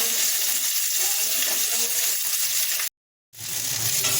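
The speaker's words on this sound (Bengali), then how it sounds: "মাছগুলো ভাজা শুরু করে দিয়েছি।" Fish fry in a pan with a loud, constant sizzle that cuts out briefly to silence near the end, then resumes.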